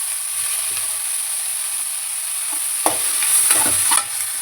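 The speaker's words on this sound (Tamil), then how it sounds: "இப்போது வதங்க பார்த்து கொஞ்சம் தக்காளி போட்டுக்கணும்." Tomato and radish being sautéed in a pan for mullangi sambar, with a steady close sizzle and frying hiss, then brief stirring scrapes and clatters near the end.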